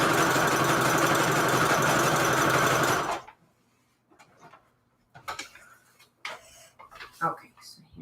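A sewing machine runs loud and steady, stitching fabric onto the edges of junk journal pages, then stops abruptly partway through, followed by soft handling rustles, clicks and brief bits of talk.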